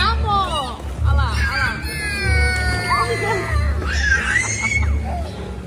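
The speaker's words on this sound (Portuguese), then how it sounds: "Olha o grito dela de alegria." A young girl shrieks with joy at a lively family party, several high-pitched excited squeals rising over crowd chatter and background music.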